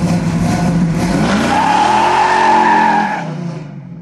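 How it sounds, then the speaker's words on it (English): A 1967 Chevy Camaro SS V8 on a test drive, loud and close, pulling hard with a rising engine note and tire squeal before easing off near the end; no talking. "let's take a little test drive"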